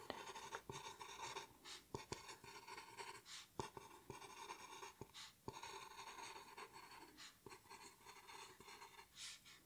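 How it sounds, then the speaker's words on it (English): Pen scratching across paper while writing notes, soft and up close in a quiet ASMR measuring roleplay, with steady strokes broken by sharper taps and pauses. "let me write all of these down before I forget"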